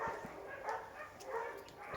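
Stray dogs barking somewhere outdoors at a market, a few distant barks spread across the stretch over steady background bustle, with no talk.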